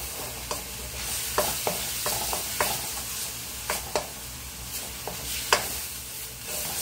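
Garlic sautéing in a pan while cooking sisig, a steady sizzle broken by sharp utensil scrapes and taps at irregular intervals, close and moderately quiet with no talking.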